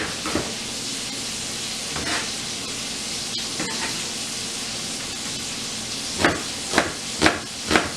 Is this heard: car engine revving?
no